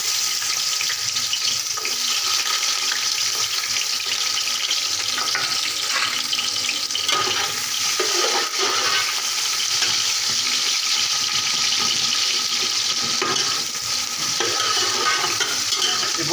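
Onions frying in oil in a pot for Bannu-style beef pulao, giving a steady, close hiss and crackle with scraping and stirring clatter throughout and no voices.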